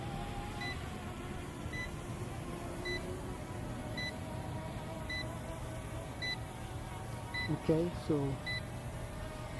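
A Ruko F11 mini folding GPS drone gives short, evenly spaced beeps about once a second while landing outdoors, faint against a hum of rotor and wind noise, with a few words spoken near the end.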